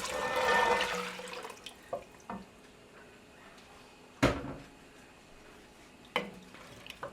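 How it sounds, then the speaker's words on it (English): Turkey stock is poured into a hot pan to deglaze it for corn chowder. A brief, rushing pour and sizzle comes first, followed by scattered clunks and knocks of kitchenware in a quiet room. "Okay, so our turkey stock is going in."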